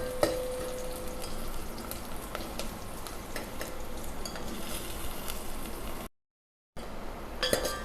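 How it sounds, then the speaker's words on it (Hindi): Onions fry in hot oil with cumin for a dal tempering, giving a soft, steady sizzle and crackle close by, with occasional clinks of a spoon against the pan and a brief gap of silence. "प्याज भून के तैयार हैं"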